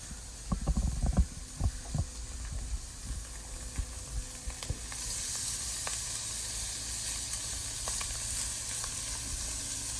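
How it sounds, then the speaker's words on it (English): Venison backstraps sear in hot oil with a steady, close sizzle that swells after a few seconds, preceded by some handling knocks and bumps. "Now I'm gonna take these back straps, make sure that oil's on there, and you're gonna hear a nice sear"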